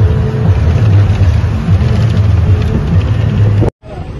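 A bus engine drones steadily on the road toward Digha, a low rumbling hum running continuously up close before cutting out abruptly near the end.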